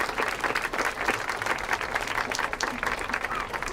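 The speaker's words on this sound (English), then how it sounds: "Let's give them and Melissa a round of applause." Outdoor crowd applauding at a children's park playscape grand opening, steady dense clapping throughout with some cheering mixed in.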